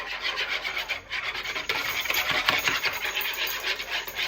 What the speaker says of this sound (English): Now, whisking this all up together.